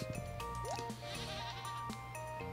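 A goat in Stardew Valley gives a short, clear bleat over the game's gentle background music, with a few small chimes and clicks around it.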